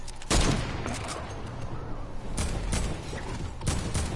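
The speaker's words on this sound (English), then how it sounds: "Dude, this SMG is gnarly" SMG gunfire in a shooter video game, sharp bursts of rapid shots in several separate volleys across a few seconds, loud and close with no talking over it.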